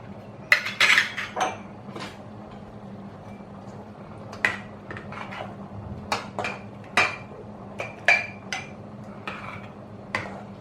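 Glass jars with tightly screwed lids are turned upside down, giving a string of small sharp clinks and knocks against a hard surface over a low steady hum.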